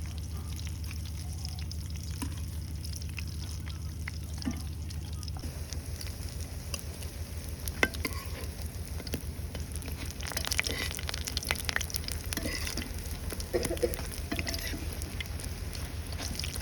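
Chickpeas fried with coriander leaves in a pan make a continuous soft sizzle, with scattered clinks and scrapes of stirring over a low hum, growing busier about halfway through.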